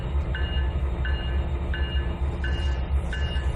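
A train in the Trainz 2019 simulator rolls steadily with a constant low rumble, and a faint metallic tone chimes at regular intervals about every 0.7 seconds throughout.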